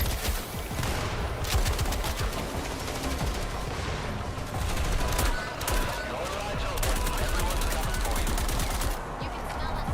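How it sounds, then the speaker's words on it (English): Gunfire in the video game John Carpenter's Toxic Commando, rapid machine-gun bursts rattling steadily and loud with brief gaps, mixed with other shots, game noise and some voices. "Now we're taking fire."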